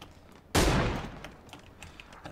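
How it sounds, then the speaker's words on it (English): A single sharp gunshot blast in the video game PUBG cracks out loudly, then its echo and rumble decay slowly over about two seconds, with faint further distant shots behind it. "You can hear the gunshots as the teams prepare themselves for onboarding."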